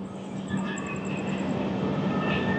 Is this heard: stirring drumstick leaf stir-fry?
no